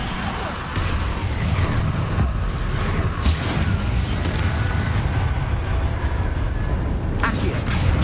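Confringo blast spells cast in Hogwarts Legacy, a dense, rumbling roar of magical energy with sharp crackling hits near the middle and end, continuous and loud throughout.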